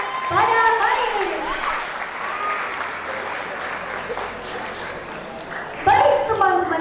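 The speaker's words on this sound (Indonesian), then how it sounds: "Boleh berikan tepuk tangan yang meriah untuk memberikan semangat pada acara istimewa pada hari ini." Enthusiastic applause from a high school seminar audience swells under an amplified emcee's voice, steady and full, with the speaking voice returning over the clapping near the end.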